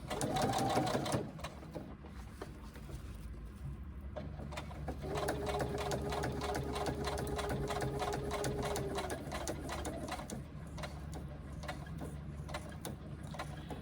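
A sewing machine runs steadily at close range, stitching along the top of the binding on a small on-the-go pouch, its fast needle rhythm continuous with a brief pause and pivot partway through.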